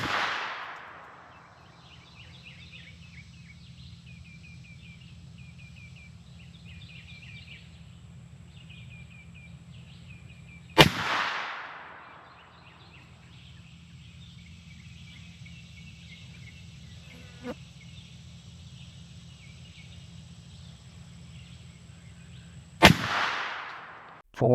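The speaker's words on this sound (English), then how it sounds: "Be shooting these Hornady LEVERevolution 190 grain FTX ammunition." Two sharp, loud rifle gunshots fired with Hornady LEVERevolution 190 grain FTX ammunition, about twelve seconds apart, each a hard crack followed by a short decaying echo, over steady outdoor insect and bird background.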